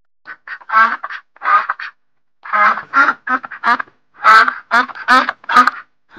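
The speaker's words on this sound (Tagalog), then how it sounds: "Pati yung pato ay nakatakbo na hanggang sa sumut ito sa talahiban." A duck quacks repeatedly in short loud bursts, clustered calls with brief pauses, close and clear against silence.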